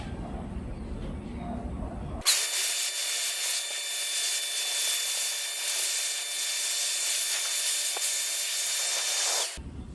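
A pet hair dryer switches on abruptly and blows with a loud, steady whooshing roar for about seven seconds onto acoustic foam panels, then cuts off.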